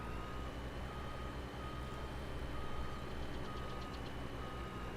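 Steady, faint reversing beeps pulse above a constant low engine rumble, a truck in Farming Simulator 22 idling and backing up in an even drone.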